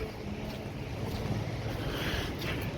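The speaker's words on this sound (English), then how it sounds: "A nice wind breeze coming from the seaside." Steady seaside breeze blowing continuously with a soft, broad rushing hiss, even and unbroken, with no voices present.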